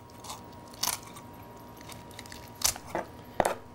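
A knife cuts through a whole raw chicken being jointed, giving a few short, crisp crunching and snapping bursts spaced apart over a quiet kitchen background, near and fairly soft.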